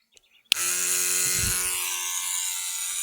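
A small battery-powered water pump on an 18-volt, 4-amp tool battery adapter clicks on and runs with a steady, loud electric whine and hum, a brief low rumble rising near the start before settling into a constant drone.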